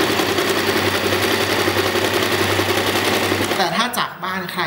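A sewing machine hums continuously while zigzag stitching a skirt hem, a loud close steady drone that stops near the end, with a person talking over it.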